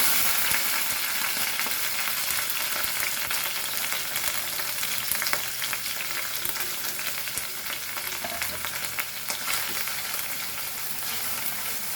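Onion and curry leaves frying in a spoonful of oil for a Goan vegetable xacuti: a steady, dense sizzle crackles without pause throughout.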